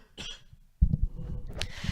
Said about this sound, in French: je vais tousser, excusez-moi